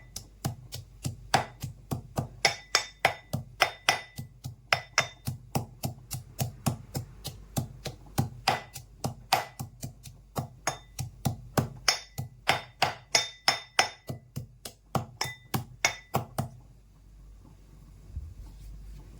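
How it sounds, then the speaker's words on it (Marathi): A pestle pounds garlic coarsely in a fast, steady series of sharp, close thuds for about sixteen seconds before stopping, leaving a quiet tail. "हे पहा ह्या पद्धतीने जाड मी लसूण कुटलेला आहे"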